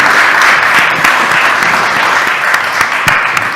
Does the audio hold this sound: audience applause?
yes